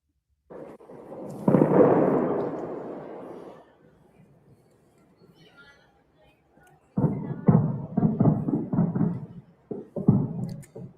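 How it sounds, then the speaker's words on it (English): Night strikes on Iran's capital: a deep rumbling blast that rolls for a couple of seconds, a quiet lull, then a cluster of distant booming explosions. "it's mostly sound of explosions"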